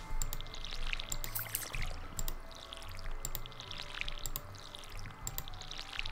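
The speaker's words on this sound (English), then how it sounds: "I'm just gonna water all this." Water pouring from a watering can over crops in the Stardew Valley farming game, a few soft splashy pours repeating at a steady pace, moderately loud over a light game background.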